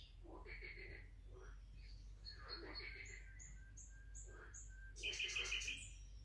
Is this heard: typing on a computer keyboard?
no